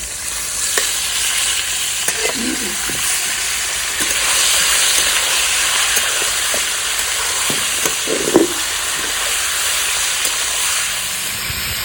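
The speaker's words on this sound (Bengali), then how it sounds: "এখানে দিয়ে দেবো আমি ধুয়ে রাখা মুরগি মাংস" Washed raw chicken meets red-fried potatoes in a hot pan for chicken curry, setting off a loud, continuous sizzle and hiss that fills the whole stretch, with occasional stirring clatters.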